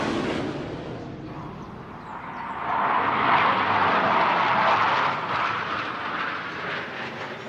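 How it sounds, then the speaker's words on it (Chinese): A fighter jet roars across the sky above a school in Taiwan, a broad rushing drone that swells to a peak in the middle and slowly fades, heard from a distance with no voices. "每天大概都会有战斗机在天空这样呼啸而过"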